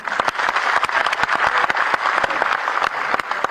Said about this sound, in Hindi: आप लोग तालियां बजाते रहिए ना।